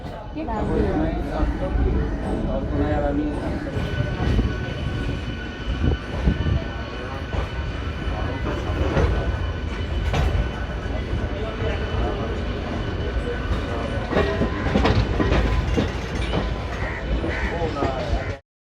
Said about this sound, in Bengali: আমাদের ট্রেন ছেড়ে দিল শিয়ালদা স্টেশন থেকে